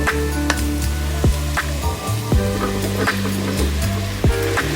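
Pieces of ridge gourd drop into a hot frying pan with onion, green chilli and curry leaves, giving a steady hissing sizzle with clattering stirs beneath prominent background music.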